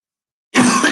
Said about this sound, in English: I don't cough all day and then I get onto these things and I start coughing